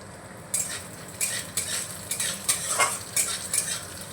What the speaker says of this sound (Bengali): রসুনের কোয়াটা দিয়ে একটু নাড়িয়ে নিয়েছি